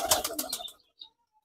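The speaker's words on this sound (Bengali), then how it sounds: "তো এই কবুতরটা একটু ছেড়ে দেখাইতেছি।" A pigeon gives a short burst of soft cooing and wing-flutter that stops abruptly, followed by near silence with a faint chirp.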